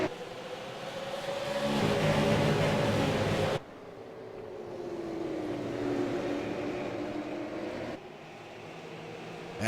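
Onboard engine of a short-track race car leading at USA Speedway as it heads back to green, loud continuous engine drone with rising and falling pitch and two sharp shifts or throttle lifts, no talk.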